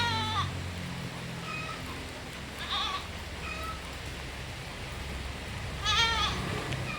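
Young crossbreed goat kids bleat several times, short wavering cries near and far, with a low background rumble between calls.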